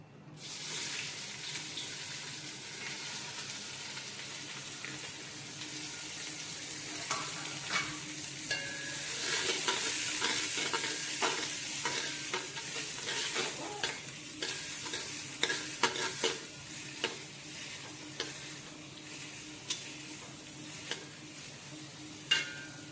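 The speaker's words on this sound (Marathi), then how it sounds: "हे आपण कांदा टोमॅटो फोडणीला टाकून घेऊ" Onion and tomato sizzle steadily in hot oil for a chicken biryani tempering, with a busier crackle in the middle and sharp stirring scrapes and clinks growing more frequent toward the end, close by with no talk.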